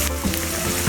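Chopped garlic dropped into hot bacon grease, a loud, close, steady sizzle lasting about a second with no voices.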